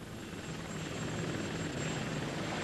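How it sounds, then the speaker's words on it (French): Apache attack helicopters flying, a dense steady rotor roar with engine whine, loud and continuous for the whole stretch, no voices. "Les équipages de ces hélicoptères Apache se sont entraînés pendant des mois."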